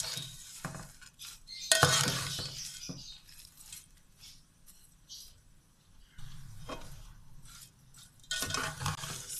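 Vermicelli for jaggery seviyan is dry-roasted in a pan. Irregular, fairly quiet scraping and clinking of a spoon against metal comes in bursts between lulls, with only faint sizzle.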